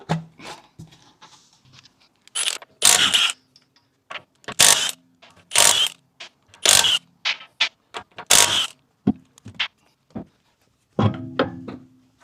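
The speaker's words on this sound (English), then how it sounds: "So let's jack it up, take the rear wheels off, and then we'll see how bad they are." Jacking up a Tesla to take off the rear wheels brings repeated sharp clicking and ratcheting bursts, close and crisp, spaced with short pauses like a jack handle being pumped.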